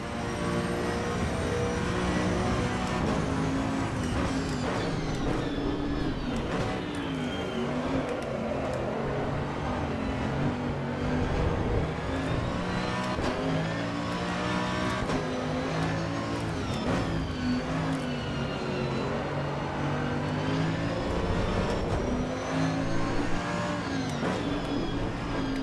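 A race car engine roars steadily in the Assetto Corsa EVO racing game, its revs rising and falling through corners under continuous loud engine drone with no voices.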